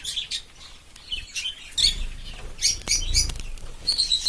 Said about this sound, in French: Un petit moineau du Japon qui est ici.